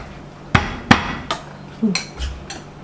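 Several sharp thwacks as chili, garlic, shallot and shrimp paste are smashed for a squid ink dish, about six uneven pounding hits, close and fairly loud in a quiet kitchen.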